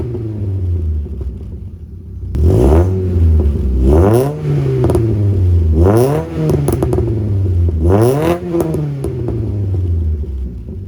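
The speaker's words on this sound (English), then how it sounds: "We're just gonna rev it and see if it makes the pops." An MK1 car engine revs hard in three or four loud, rising and falling bursts after a steady idle, with crackling exhaust pops at the peaks of each rev, close to the microphone.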